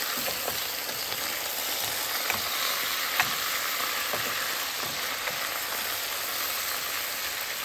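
Potatoes fry in a skillet, giving a continuous loud sizzling hiss, with faint scrapes and taps from stirring underneath, close up.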